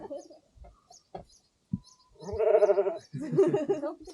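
Sheep and lambs on an Irish farm bleat in a few short calls, then two longer, louder wavering bleats close by, with quiet gaps and soft knocks between them.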